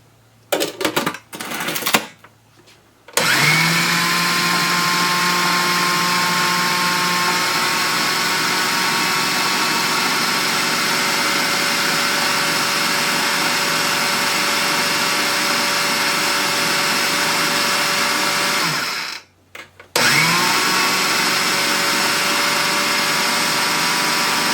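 A blender whirs continuously while mixing homemade brown sugar, a steady loud motor drone with short stop-start bursts at the beginning and a brief pause near the end before it resumes.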